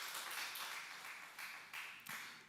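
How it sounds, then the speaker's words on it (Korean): A church congregation clapping during a Sunday night service, a brief, moderately distant burst of applause in uneven waves that tapers off. "우리 격려의 박수하겠습니다."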